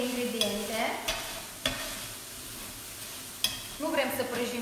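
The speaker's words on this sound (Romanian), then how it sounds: "Prăjim doar foarte puțin, atât cât să iasă, să se amestece aromele între ingrediente." Chopped ingredients dry-fried and stirred in a pan with no oil, a soft steady sizzle broken by several sharp scrapes and knocks of the utensil against the pan, close and alone with no talk.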